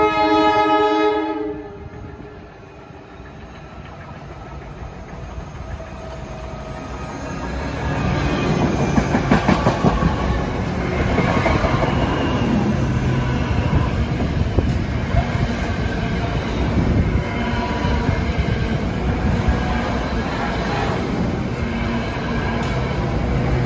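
A Northeast Corridor train passes at high speed, a horn sounding near the start before a loud, sustained roar of rolling wheels and rushing cars fills the rest of the pass close by.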